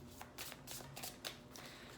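A deck of tarot cards is shuffled by hand, giving quiet, quick riffling and slapping bursts that repeat at close range with no voice.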